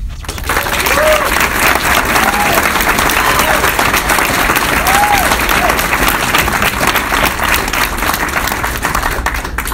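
Sustained audience applause at a political debate, a dense, loud wash of clapping that holds steady for about ten seconds, with a few faint voices and whoops rising through it.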